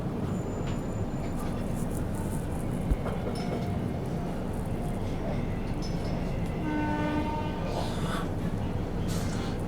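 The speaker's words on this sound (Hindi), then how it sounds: "ट्रेन अपनी पहुंच चुकी है महबूब नगर रेलवे स्टेशन पर" Karnataka Sampark Kranti Express pulling into Mahbubnagar station, which is under renovation: a steady rumble of rolling carriages with squealing wheels and faint whistle-like tones, running continuously throughout.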